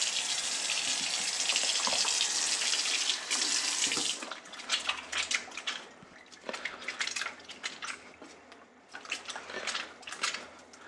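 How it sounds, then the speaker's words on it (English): Hands are washed under a running kitchen tap: a steady loud rush of water for about four seconds, then softer splashing and rubbing as the hands move in and out of the stream. "And then I'm gonna wash my hands."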